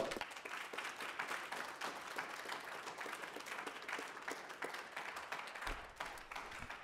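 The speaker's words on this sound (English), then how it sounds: "Let's give the director one more round of applause" A room of attendees claps for the director at a session on Kansas water issues, a faint, sustained round of applause with a flurry of distinct hand claps, no voices.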